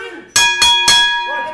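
A wrestling ring bell clangs three times in quick succession to start a match, ringing loud and close with a sustained metallic tone that lingers under faint voices.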